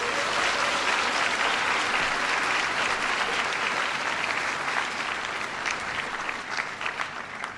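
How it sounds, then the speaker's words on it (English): Big round of applause from a town hall audience in Luang Prabang, Laos: loud, dense, sustained clapping from a large crowd that fills the whole stretch, easing only slightly near the end. "Can everybody please give Om a big round of applause for that great introduction"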